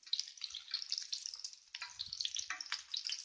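Chapli kabab frying in oil in a pan while being flipped, a faint, crackly high-pitched sizzle with irregular spits and pops, steady throughout and without talk.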